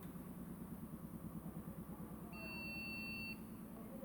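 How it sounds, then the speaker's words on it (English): An HP desktop motherboard powered up without RAM gives one steady electronic beep, lasting about a second, over a constant low fan and power-supply hum. "the motherboard has started, it's giving beep"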